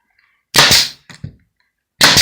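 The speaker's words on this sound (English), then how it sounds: "Now if you don't have a brad gun nailer, it's going to be a little bit harder for you to do." A brad nail gun fires into vinyl lattice for removable porch skirt panels: two sharp, loud bursts about a second and a half apart, with a small clatter of handling between them.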